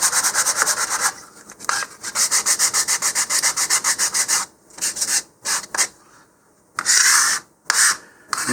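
Sandpaper rubs briskly over the edges of a model rocket's fins, in rapid rhythmic bursts of scratchy strokes, close and fairly loud, broken by short pauses.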